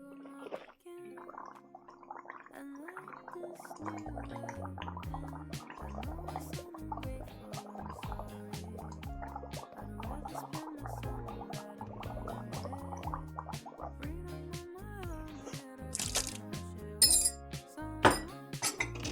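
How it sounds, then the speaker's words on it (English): Someone gargles salt water up close, a bubbling, irregular throaty gurgle that runs steadily for many seconds with small wet clicks and splashes, rising slightly toward the end. "Saltwater gurgle."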